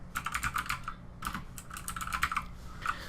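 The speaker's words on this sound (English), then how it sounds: "So I'm going to start typing black trade binder." Rapid, close-up keystrokes on a computer keyboard, typing a short tag name in bursts with a brief pause midway, moderately loud with no voices.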